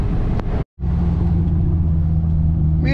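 Steady engine drone and road rumble inside a 26-foot U-Haul moving truck cruising on the highway while towing car dollies, loud and continuous apart from one brief dropout near the start.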